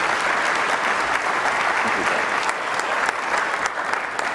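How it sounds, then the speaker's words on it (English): A large conference audience at the 2013 Mackinac Policy Conference bursts into steady, thick applause, with many hands clapping continuously at an even, loud level throughout and no speech. "let's give them a round of applause for their great work."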